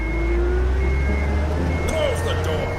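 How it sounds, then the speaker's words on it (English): A truck engine starts and settles into a low, steady rumble in the video game UnMetal, with a thin mechanical whine on top and a brief spoken line over it near the end. "Crap, they started the engine."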